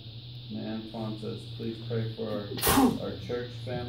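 A single abrupt sneeze bursts out in a church during a prayer service, short and fairly loud, interrupting someone speaking steadily.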